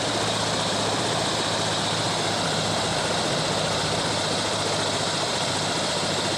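A helicopter carrying cargo up to a Himalayan mountain village, a steady loud engine and rotor roar that fills the whole stretch without pause.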